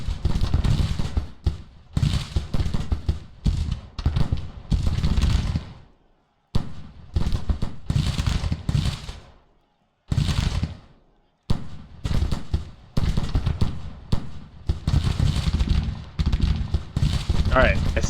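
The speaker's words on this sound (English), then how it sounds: "I see the artillery starting to tee off" Repeated booming artillery fire in the Civil War strategy game Grand Tactician, covering a battle at Fredericksburg, with bursts of heavy shots separated by short silences, loud and close, and talking over parts of it.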